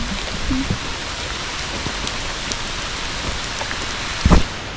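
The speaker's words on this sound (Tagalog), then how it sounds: "yan na, umuulan." Steady rain hisses down continuously, with scattered drops pattering nearby and a brief louder knock near the end.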